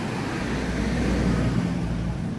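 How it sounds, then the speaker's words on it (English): Steady street traffic in Thailand, a dense, continuous roadway rumble with broadband hiss that holds at an even, fairly loud level for the whole stretch, with no clear individual vehicles standing out. "I hope you can hear me over the sound of the traffic."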